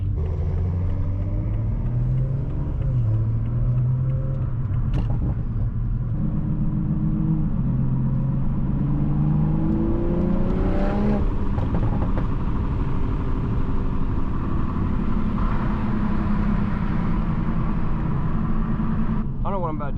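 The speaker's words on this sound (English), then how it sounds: "that turbo sound crazy" A turbocharged Toyota Supra or Nissan GT-R engine rumbles steadily on a night city drive, rising and falling in pitch as it revs and builds boost, with a voice talking at times over the drone.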